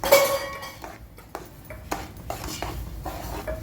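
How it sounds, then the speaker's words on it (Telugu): Semolina (rava) pours thinly into a pan for rava kesari as it is stirred, metal utensil scraping and clinking against the pan in irregular knocks, close and fairly loud, with no talk. "రవ్వ ఇలా సన్నగా పోసుకుంటూ తిప్పుకుంటూ అనమాట"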